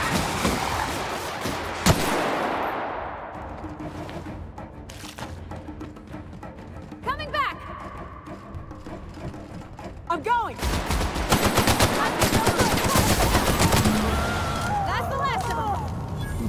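Gunfire in The Outer Worlds, with a sharp early shot, scattered reports, then dense bursts of automatic fire in the later half, mixed with game effects and voices talking.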